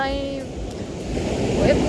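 Rough sea at Lefkada, a surging wave wash and wind rush that swells louder toward the end, close and fairly loud.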